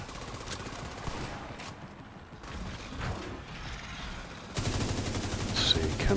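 Gunfire and mechanical weapon clatter in the shooter game Tom Clancy's The Division 2, sporadic shots and clicks, then a dense loud burst of rapid fire near the end.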